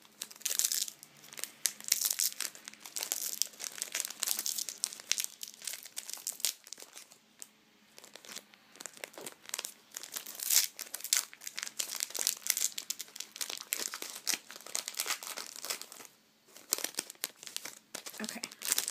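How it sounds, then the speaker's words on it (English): A Pokemon card pack's foil wrapper is crinkled and torn open up close, a long stretch of continuous crackling and tearing with uneven rustling bursts. "These packs are super hard to open."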